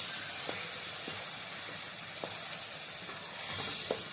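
Masala frying in oil in a pan for a street-cart sundal snack, a steady close sizzle and hiss with faint spatters and scraping stirs now and then.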